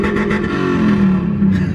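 A Mustang's engine revs loudly and close by in a large parking lot, a sustained throaty roar with rising pitch toward the end, heard alone.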